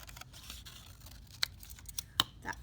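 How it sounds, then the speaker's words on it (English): Scissors snip through paper while cutting out a small iguana head for an alphabet craft book: a quiet, faint rustle broken by a few sharp, brief clicks of the blades, close by with no talking. "I'm just going to cut out my little iguana head."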